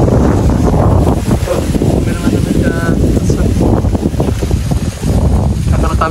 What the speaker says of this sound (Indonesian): Oh, anginnya cuy.